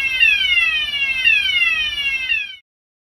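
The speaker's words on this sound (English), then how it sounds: "It is these devices which sound the alarm when triggered." A loud electronic fire alarm sounder gives a repeating falling sweep tone, three cycles in quick succession, then cuts off abruptly.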